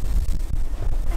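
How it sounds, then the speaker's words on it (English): Strong wind buffets the microphone aboard a 26-foot sailboat in a steady low roar, loud and continuous with gusty swells. "it's very windy!"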